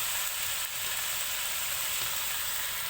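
Chili paste hits hot oil with spices, salt and turmeric for a jackfruit curry, giving a loud, steady, close sizzle that holds evenly throughout with no voices.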